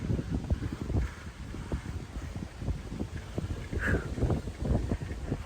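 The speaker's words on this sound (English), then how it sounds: "It is very windy. Very windy. I know y'all can hear it." Strong wind buffets the microphone on a bike trail in continuous low rumbling gusts, loud and close, with no voices.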